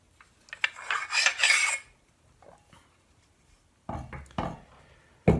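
Metal bolts from a 9mm AR rifle are handled and set against each other, giving short clinks and scraping rattles in two close bursts separated by a quiet gap.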